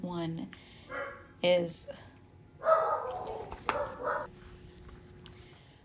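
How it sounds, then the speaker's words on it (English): A corgi barks several times in short bursts with a whiny yip, close by, mixed with a person talking. "our corgi barking in the background"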